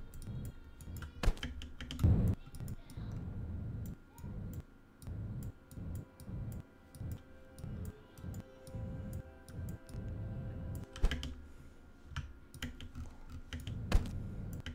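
Computer keyboard keys clatter steadily as someone plays the video game Heat Signature, with close, irregular clicks in short runs and occasional louder taps, and no voices.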